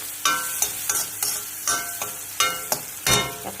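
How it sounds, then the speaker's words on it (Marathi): Chopped onion frying in a pan while cooking a village-style beetroot and egg bhurji, a steady sizzle broken by a series of sharp scraping stirs of the spatula, close and loud, with no talking. "कांदा चांगला भाजला गेला"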